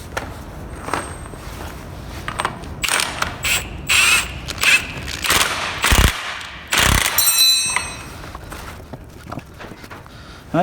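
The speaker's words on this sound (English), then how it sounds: "Right, I'll just tighten that up." Metal clicking and clunking as a new drive shaft is tightened on a Kubota RTV 900 utility vehicle with a hydraulic transmission problem, with irregular ratchet-like bursts and knocks, fairly close, no talking.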